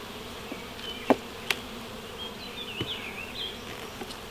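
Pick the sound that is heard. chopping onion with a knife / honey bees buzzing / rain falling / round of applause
honey bees buzzing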